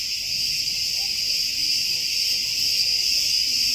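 A steady, loud, high-pitched drone of cicadas in trees at Knossos, Crete, fills the air continuously without a break, an unbroken shrill buzz with faint rustling beneath.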